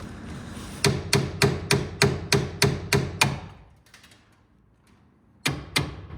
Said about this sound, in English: So the answer is just keep hitting it with a hammer.